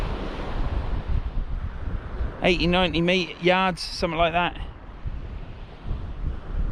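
Wind and surf roar steadily on a beach below cliffs on the Holderness coast, a constant close rush of waves and gusts, with someone talking briefly over it.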